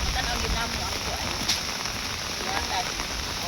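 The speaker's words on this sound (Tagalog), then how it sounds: "ulan man nga kusog karon" Heavy rain pouring down near a highway, where the storm strips off roof sheeting, a dense, loud, continuous hiss of drops with no break.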